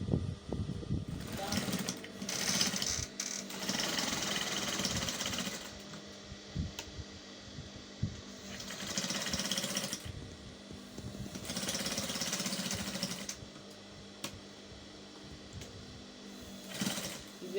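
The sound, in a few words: zigzag sewing machine stitching a pleated pocket border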